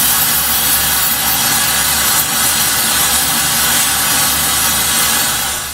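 Steady, loud roaring hiss of a torch heating the propeller shaft flange on a steel trawler, continuous and close with no breaks.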